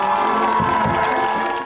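Loud, close crowd of children and adults at an outdoor charity marathon launch cheering and applauding as white doves are released, a dense continuous roar with shouts.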